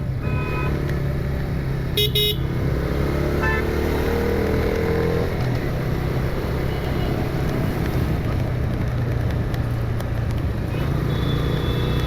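A Bajaj Freedom 125 CNG motorcycle hums along at a steady, light engine drone under continuous wind rush, with a few brief horn-like tones early on.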